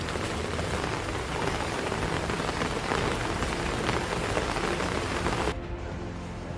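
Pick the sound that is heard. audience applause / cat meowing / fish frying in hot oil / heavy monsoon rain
heavy monsoon rain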